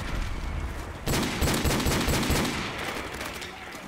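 Rapid automatic gunfire from the video game Call of Duty 4: Modern Warfare Remastered bursts in dense, loud volleys after a steady background din, continuing for several seconds before easing.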